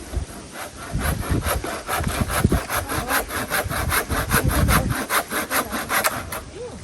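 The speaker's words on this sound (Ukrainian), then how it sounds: "Отакі брусочки ріжемо, щоб одразу було відро." Hand saw cutting wooden bars into firewood, with steady rhythmic back-and-forth strokes rasping loudly and close throughout.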